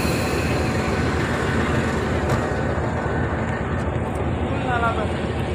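Locomotive 4563 heading the Farid Express at Raiwind station platform, a loud steady diesel rumble with rail noise and a brief faint squeal near the end.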